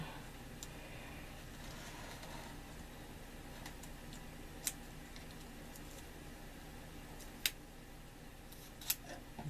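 Scissors cut lightly through adhesive backing paper while making a diamond painting, giving faint, steady close-up snipping with three sharp crisp clicks spaced apart over quiet room tone.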